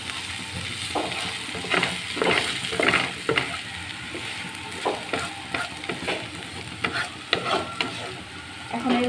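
Vegetables for noodles being stirred and pushed to one side of a frying pan, with a steady close sizzle and repeated scraping strokes of the spatula throughout.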